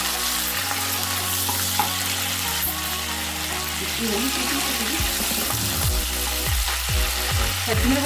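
Curry leaves and green chilies fry in hot oil in a pan for a cauliflower curry, giving a loud, steady sizzle that runs unbroken throughout, with low hum and faint stirring sounds beneath.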